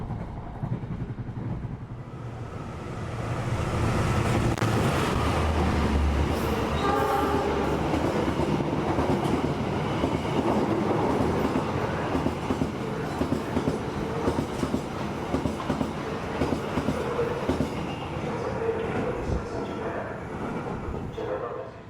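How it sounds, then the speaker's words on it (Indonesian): An executive-class train on the Bekasi line in Indonesia rushes past Bekasi station without stopping, a loud sustained roar of wheels and rail clatter that builds after a couple of seconds and holds steady throughout. "kereta api yang melintas langsung di stasiun Bekasi itu rasanya wow"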